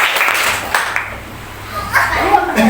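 A class group of students claps once together on command, a quick burst of hands in a room, with people talking and chuckling over and around it.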